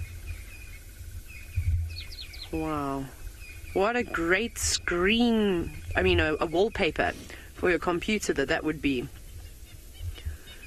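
Francolins at an African safari reserve give loud, repeated rising and falling chirping calls in a rhythmic series, heard close and clear while someone talks over them.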